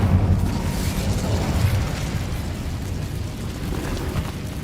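Incendio fire spell cast in the Hogwarts Legacy video game, heard as a dense, loud, continuous fiery rumble and roar with crackling bursts that fills the whole moment without pause.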